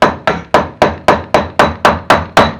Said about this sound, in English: All the hammering is ready.